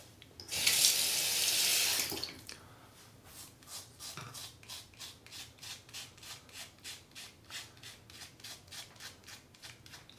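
Tap water gushes loudly for about two seconds while a cartridge razor is rinsed, followed by a long run of soft, evenly spaced strokes at close range.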